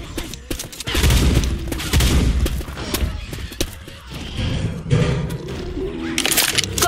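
Rapid gunfire in Left 4 Dead 2 during an advanced-difficulty campaign, loud bursts and single sharp shots mixed with crashing, breaking impacts, busy and close throughout.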